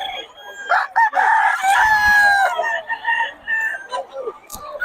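Stag roosters (gamecocks) on a farm crow loudly and close by, with long overlapping cock-a-doodle-doo calls filling most of the stretch and a few short clucks, over faint background chatter.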